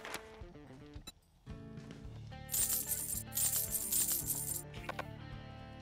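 Coins clink and jingle as loose change is picked up in the video game 7 Days to Die, a bright metallic cascade of rapid chimes in two bursts over soft game music.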